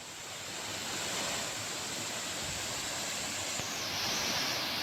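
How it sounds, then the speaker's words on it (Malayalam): Rain-season Vannathi waterfall pouring in a steady, dense rushing roar, constant and close with no break and no voices. "മഴയുള്ളപ്പോൾ മാത്രമുള്ളൊരു വെള്ളച്ചാട്ടം ഇത് കേട്ടോ"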